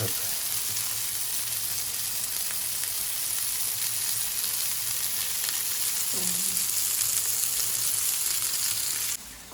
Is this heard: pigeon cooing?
no